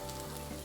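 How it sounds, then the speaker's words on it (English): Food sizzles in a hot pan, a brief burst of steady crackling hiss heard close up. "Sizzle, sizzle, sizzle,"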